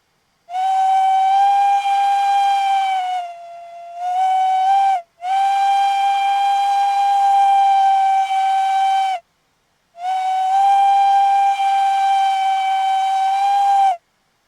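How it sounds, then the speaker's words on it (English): A simulated S&DJR 7F steam locomotive whistle sounds in three long blasts, loud and close, with the pitch and strength bending as the whistle is quilled, dropping to a softer tone partway through the first blast. "You can quill the whistle by clicking and dragging it with the mouse"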